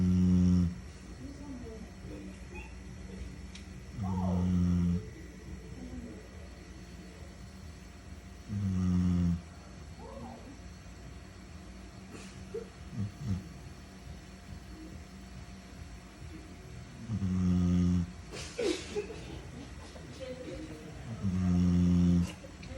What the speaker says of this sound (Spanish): escuchen por primera vez en su vida un perro roncar como una persona